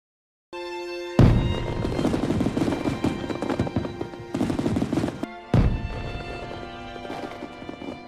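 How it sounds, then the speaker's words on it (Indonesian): Fireworks are set off during a chase, two sharp bursts opening into rapid crackling pops layered with ringing, whistling tones, loud and close, with a brief lull between them. "Mamachari menyalakan kembang api."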